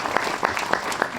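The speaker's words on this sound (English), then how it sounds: "please, with a lot of applause, welcome Leena Yadav" Applause from a film festival audience, a short burst of clapping with a few sharper individual claps standing out over a steady wash of hands.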